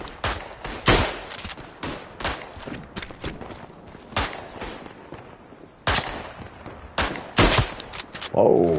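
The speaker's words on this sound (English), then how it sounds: "Oh, somebody's firing at me." Gunfire on the WW1 eastern front at Tannenberg in a video game, bursts of rifle and machine-gun shots cracking at irregular intervals, some loud and near, others farther off.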